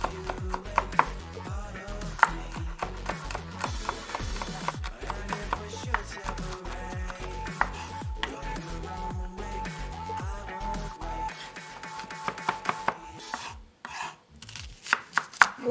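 A knife chops garlic and ginger on a cutting board in quick, steady, close strokes, a continuous run of sharp taps that loosens into a few scattered cuts at the end.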